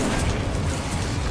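An Incendio fire spell in Hogwarts Legacy gives a short, dense whooshing roar of flame, loud and unbroken for its brief length, heavy in low rumble.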